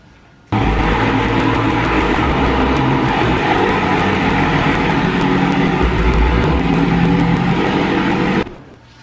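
A car drives into a home garage onto a newly installed car lift, its engine a steady, loud, close drone that starts abruptly and holds for about eight seconds before cutting off.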